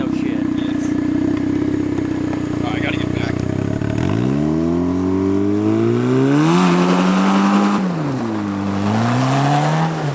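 A loud turbocharged Mazda Miata does a burnout, its engine idling roughly before revving hard in rising and falling sweeps, the strained tires adding a broad hiss, with people talking excitedly nearby.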